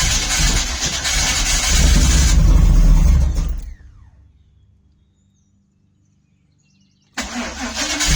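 A Pontiac Trans Am's starter cranks loudly and rhythmically for several seconds without the engine catching. Then there is near silence until the cranking starts again abruptly.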